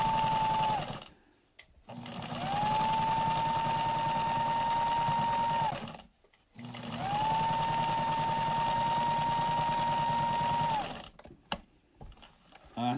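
A sewing machine top stitches a fabric face mask in two long steady whirring runs, each a few seconds, separated by brief pauses and small clicks, close and clear with no talking.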